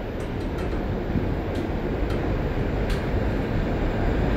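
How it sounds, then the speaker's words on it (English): Norfolk Southern freight train NS 579 rolls west past at about 55 mph with a continuous loud rumble and rattle of wheels on rails, steady throughout. "Another single train."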